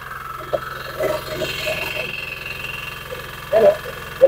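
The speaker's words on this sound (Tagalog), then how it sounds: "Ang engine po niyan, 7 horsepower diesel engine." A 7 horsepower diesel engine powers a feed pellet machine, running as a steady, low, droning rumble with faint knocking throughout and brief louder clatters from the machine.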